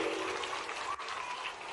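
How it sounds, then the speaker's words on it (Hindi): A crowd applauds steadily at a public event in Surjanpur, Morena, the dense clapping continuous and fairly loud throughout with a brief dip near the middle. "सुशासन के प्रति यशस्वी प्रधानमंत्री के लिए जोरदार ताली बजाओ श्रीमान नरेंद्र मोदी जी के लिए"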